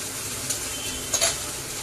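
Red chili powder, Malvani masala and turmeric frying in hot oil, a steady close sizzle with a couple of brief stirring scrapes, no voices.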